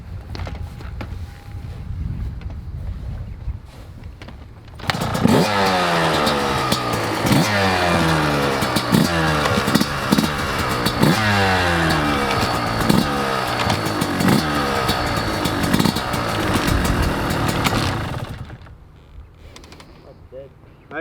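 A YZ125 or TC125 two-stroke motocross bike, choke left on, bursts into loud, close revving after a quiet start, with repeated rising rev sweeps for about thirteen seconds before cutting back to wind noise.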